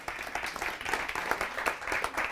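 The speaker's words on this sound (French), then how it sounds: "on peut encore les applaudir s'il vous plaît" An audience at a French trophy ceremony for digital services firms applauds the winners, steady moderate clapping from a socially distanced crowd, slightly distant, with no voices.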